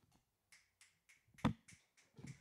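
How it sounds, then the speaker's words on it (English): A weak, sparse golf clap from a single audience member at a comedy show, a handful of faint, separate claps spaced out over a couple of seconds. "That is the worst fucking golf clap I've ever heard."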